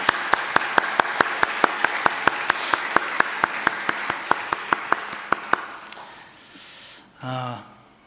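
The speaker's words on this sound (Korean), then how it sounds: "우리 음악부를 위해서 감사와 격려의 박수 한번 보내주시면 좋겠습니다" A church congregation claps for its music department in evenly spaced, crisp beats for about five seconds, then the clapping stops and a voice briefly speaks.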